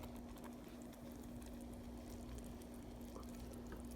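Hot homemade Christmas candy poured out of a cooking pan and spread thin, a steady soft liquid pour with faint drips, close by and continuous, with a constant low hum underneath and no talk.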